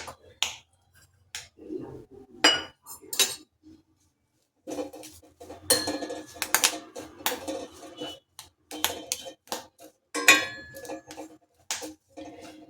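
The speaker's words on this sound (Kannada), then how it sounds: "ಇವಾಗ ಇದೇ ಪ್ಯಾನಲ್ಲಿ 1 ಕಪ್ ಕರ್ಬೇವಿನ ಸೊಪ್ಪನ್ನ ಫ್ರೈ ಮಾಡ್ಕೋಬೇಕು." Curry leaves dry-roasted without oil in a pan, stirred with a spatula: intermittent clinks and scrapes against the metal in irregular bursts with short pauses, close and moderately loud.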